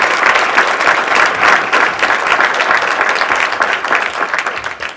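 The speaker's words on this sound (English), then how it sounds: "If you can help me give them a round of applause." A dense, steady round of audience applause for the hotel staff at a gubernatorial forum, many hands clapping close and loud for about five seconds without a break.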